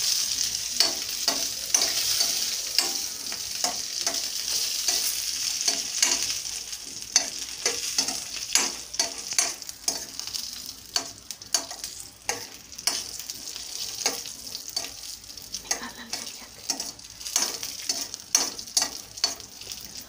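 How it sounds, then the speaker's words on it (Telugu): Dry fruits fry in a bowl for carrot beetroot halwa, a bright steady sizzle punctuated by frequent sharp stirring clicks and scrapes in an irregular rhythm, close and without speech. "చూడండి, డ్రై ఫ్రూట్స్ ఇలా వేయించుకోవాలి."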